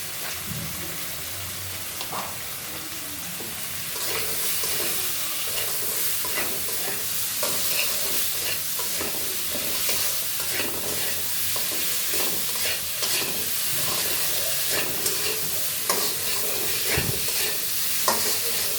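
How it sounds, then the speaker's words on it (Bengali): Potatoes and sponge gourd sauté with spices in a hot pan, giving a steady close sizzle with repeated scraping stirs throughout and no talking. "আলু আর দুন্দুলগুলো এভাবে মশলার সাথে কষিয়ে নিব"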